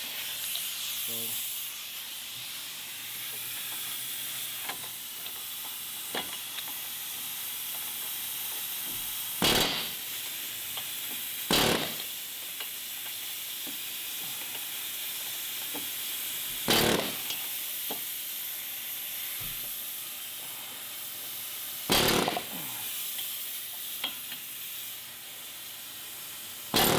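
A pneumatic air hammer works on the lower control arm of a 2002-06 Toyota Camry's suspension, letting out short, loud, hissing bursts about every five seconds over a steady background.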